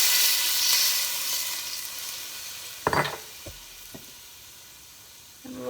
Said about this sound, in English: now we're going to add the bone broth